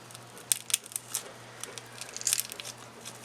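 Crunchy honeycomb slime sponges squeezed by hand give a string of sharp crackling crunches, close and crisp, with a tight cluster of pops near the end over a low background hum.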